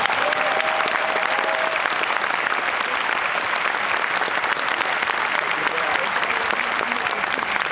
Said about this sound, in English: Let's show another round of applause for the orchestra.